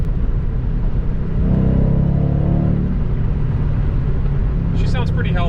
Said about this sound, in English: This is definitely a stock exhaust, but they sound very good from stock.